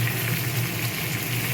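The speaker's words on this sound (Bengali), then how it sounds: "ততক্ষণ অবধি পটলটাকে ঢাকনা ঢেকে ঢেকে খুন্তির সাহায্যে উল্টে পাল্টে দিয়ে আমি ভাজা ভাজা করে নেব।" Pointed gourd (potol) frying in a pan in a Bengali home kitchen, turned with a spatula: a brief, steady, close hissing sizzle with faint soft scrapes.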